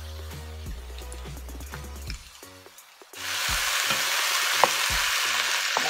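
Shrimp stir-fry in a hot pan with fish sauce, with quiet utensil clinks and scraping at first, then a sudden loud, hissing sizzle once the liquid hits the pan.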